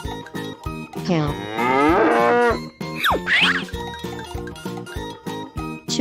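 A cow lowing: one long, drawn-out moo, then a shorter rising one, loud over a bouncy musical backing.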